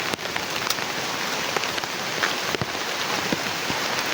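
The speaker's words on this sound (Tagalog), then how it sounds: "Grabe yung ulan tol." Heavy rain pours steadily onto a surface, a dense continuous hiss with scattered louder drops and spatters throughout, no voices heard.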